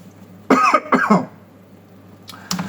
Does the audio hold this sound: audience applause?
no